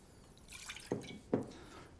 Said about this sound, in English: for the marinade, we're going to put in a half a cup of teriyaki sauce.